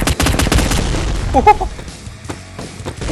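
Booming explosions and rattling gunfire in a zombie shooter game, dense close blasts in quick succession with a sharp pop partway through.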